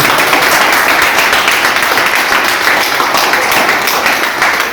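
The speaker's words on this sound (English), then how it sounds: "Please clap for them again." Loud, dense, continuous clapping from a crowd at a Class 10 farewell ceremony at Mount Carmel High School, Lohia Nagar, Tekari, a steady wash of applause holding at full level throughout.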